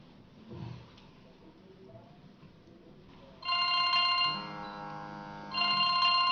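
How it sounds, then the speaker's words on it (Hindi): A telephone rings with bright electronic tones in repeated bursts, loud and close, after a brief quiet stretch. "राजू का फोन?"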